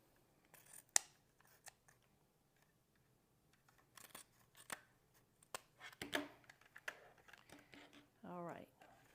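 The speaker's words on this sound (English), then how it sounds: "Now I just need my scissors." Scissors snip through paper strips while folding pieces in a craft project, heard as a series of close, sharp crisp cuts scattered irregularly across a quiet room, with a brief faint voice.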